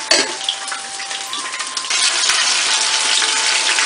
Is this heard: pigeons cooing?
no